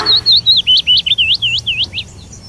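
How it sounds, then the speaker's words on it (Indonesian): A bird chirps a rapid series of bright, whistled notes in a forest, steady and fairly close, over a low background hum. "Suara burung."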